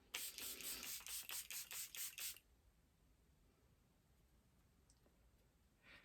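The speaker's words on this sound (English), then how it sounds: "I'm using the Charlotte Tilbury Airbrush Flawless Setting Spray" Rapid bursts of Charlotte Tilbury Airbrush Flawless Setting Spray, about eight short pumps in quick succession, then near silence with faint rustling.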